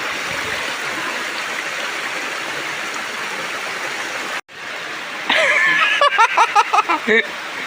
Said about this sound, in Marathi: पाऊस पडला नाही त्यामुळे थोडं थोडं पाणी वाहत आहे इकडून डोंगरावरून